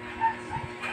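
Dogs outside a home give brief yips and whimpery barks, faint and somewhat distant, with a voice calling softly nearby.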